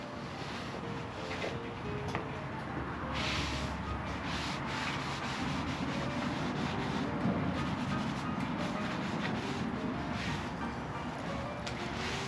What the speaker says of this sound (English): Just give it a good wipe down.